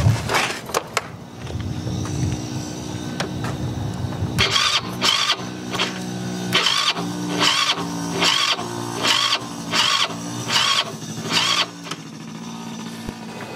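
An engine on a freshly recharged battery tries to start in cold weather: a first brief crank, then a long string of rhythmic cranking bursts, each whirring and stopping, with no sign of it catching.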